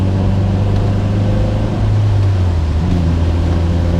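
Cabin drone of a Honda Element with a K24 engine and custom exhaust, heard from inside the car: a steady low hum and rumble that holds throughout at moderate volume, with no voices.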